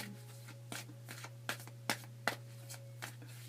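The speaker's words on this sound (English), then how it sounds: "I'm just going to shuffle and see what else we can expect to see happen" A deck of tarot cards being shuffled by hand, with a series of crisp riffling bursts and sharp card slaps spread unevenly over a few seconds, close and fairly quiet above a steady low electrical hum, with no talking.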